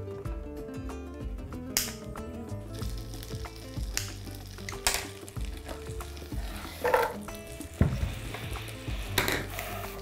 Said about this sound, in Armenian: Տապակում ենք դեղցի ճիրը։